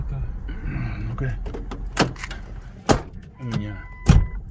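A car door being opened and shut on a parked car, heard as several sharp close thunks and clicks amid a low engine hum, with people talking in between.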